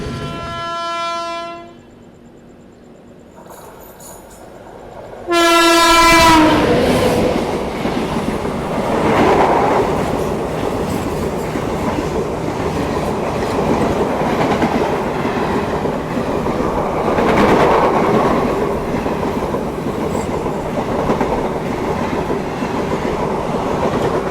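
The Mandovi Express at Sindhudurg station sounds two long, loud horn blasts, then the cars rumble and clatter past up close in a continuous roar for the rest of the passage, with no voices.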